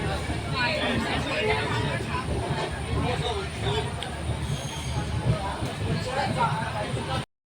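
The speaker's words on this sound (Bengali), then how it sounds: "আমাদের ট্রেন এখন ঢুকছে সাঁতরাগাছি স্টেশনে।" A train pulling into Santragachi station, with steady loud rolling rumble and rail noise throughout, faint wheel squeal, and a crowd of people chattering under it on board.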